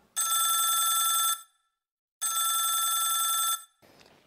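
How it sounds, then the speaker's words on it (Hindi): A telephone bell rings in two long, loud bursts separated by a short pause, clear and close, with a brief murmur of movement or voice after the second ring, set in a Haryanvi drama scene. "डर जा बाबू जीतू का फोन आ रहा है"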